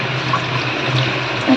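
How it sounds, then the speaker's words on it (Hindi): Rinse water from washed rice is poured out in a steady, loud, close splashing stream, with no talk. "अब चावल में धो के रखे संगवारी हो, एक हर पानी डाल फेंकूँ"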